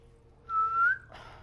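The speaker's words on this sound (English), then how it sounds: "I don't know why I whistle so much." A single person whistles a short, steady, rising note, close and clear, over quiet background.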